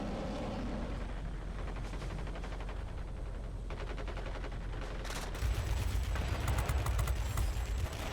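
Rapid bursts of aircraft cannon fire from a Vought F6U Pirate fighter in the World of Warplanes game, sustained rattling volleys over a constant engine drone, growing louder and heavier near the end.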